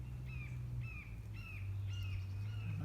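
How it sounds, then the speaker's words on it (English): Birds call outdoors in spring, a repeated series of short, clear chirps at a moderate distance over a steady low hum of background noise. "I love listening to the birds."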